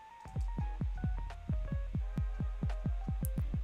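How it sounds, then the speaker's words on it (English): Deep, punchy kick drum hits in a steady fast pulse with a soft melodic line playing over them, no voices. "I think I'm just going to use a basic kick drum sound"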